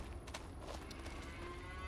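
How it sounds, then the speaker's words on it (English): Cows mooing at a dairy barn in Farming Simulator 25, a loud, close, drawn-out lowing call heard alone over a steady low background hum. "Moo cows"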